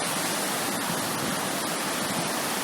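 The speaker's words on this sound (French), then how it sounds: "Ça, c'est la rivière juive." River water rushes steadily past with a loud, continuous broadband hiss and no breaks, close by and alone with no voices.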